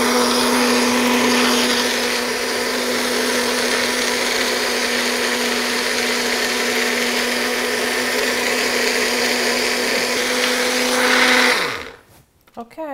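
A blender runs steadily, purees fire-roasted tomato soup with a loud, even whir, then winds down and stops near the end.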